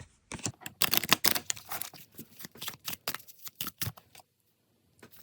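An oracle card deck riffles and slaps together in quick bursts, close and crisp, followed by a few quieter taps and then near silence.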